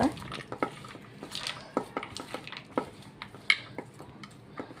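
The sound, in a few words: mixing sabudana chaat with farsan in a bowl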